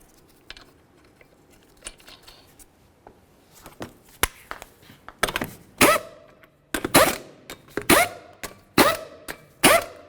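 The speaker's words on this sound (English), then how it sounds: "We're going to start on all 5 of our lug nuts." Lug nuts being run down on the front wheel of a 2009-2020 Dodge Journey with an impact wrench, heard as sharp rattling bursts that start faint and sporadic, then grow loud and repeated in short clustered blasts.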